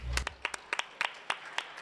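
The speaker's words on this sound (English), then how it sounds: "the rest of us are going to applaud you" A handful of people in a 49th Ward aldermanic debate audience clap, giving sparse, uneven individual claps spread across under two seconds, close and moderately loud with a low thump at the start.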